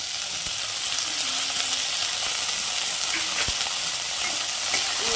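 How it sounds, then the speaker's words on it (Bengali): Beans, cauliflower and peas frying lightly in a pan for a vegetable dal, a dense continuous sizzle with occasional stirring knocks, steady and close. "সবজিগুলোকে একটু হালকা ভেজে নেবো"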